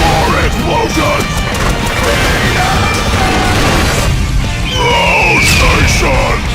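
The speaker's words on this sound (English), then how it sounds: "More explosions!" Repeated crashing blasts and bursts from the video game Broforce, dense and loud, with chaotic impacts layered over a constant noisy background.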